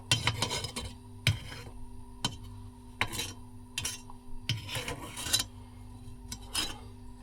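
A metal ladle scrapes and clinks against a pot of molten lead while impurities are skimmed off, giving repeated sharp metallic scrapes and taps over a steady low hum, close and fairly loud.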